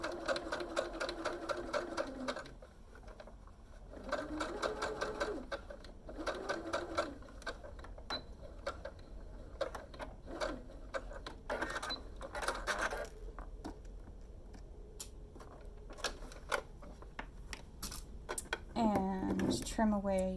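Sewing machine stitching and back stitching a fabric face mask, several short bursts of fast rhythmic needle clatter separated by pauses, close and clear, with a person talking in between.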